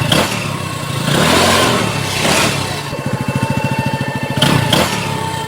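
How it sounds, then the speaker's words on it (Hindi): A motorcycle ridden along a road home in a cartoon, its mid-pitched engine droning steadily with a few rises in revs and a stretch of rapid putter, loud and close, with no talk over it. "बाइक चलाता हुआ घर के रास्ते अपने घर जाने लगता है।"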